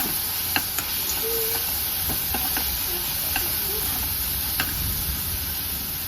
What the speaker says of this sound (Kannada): ಶುಂಠಿ ಬೆಳ್ಳುಳ್ಳಿ ಪೇಸ್ಟ್ ಸ್ವಲ್ಪ ಫ್ರೈ ಆದಮೇಲೆ ಪುದೀನ ಸ್ವಲ್ಪ ಪುದೀನ ಸ್ವಲ್ಪ ಫ್ರೈ ಆದಮೇಲೆ